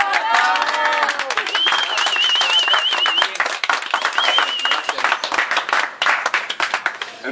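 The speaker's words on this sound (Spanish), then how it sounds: "Y un aplauso al Palmer que hizo la comida y preparó" Applause and clapping at an acoustic fan-club meal, honouring the cook. Dense, steady hand claps run throughout, with a whistle and lively voices over the top near the start, thinning into scattered claps toward the end.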